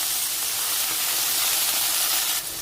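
Vegetables sizzle loudly and steadily in hot oil with browned garlic in a pan, a continuous, even frying hiss with no voice.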